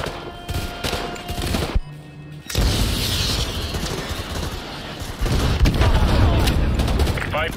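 AGM missile strikes in Call of Duty Modern Warfare 2 Remastered, heavy booming explosions and gunfire rolling into a sustained roar after a brief silent gap, with voices speaking over the battle.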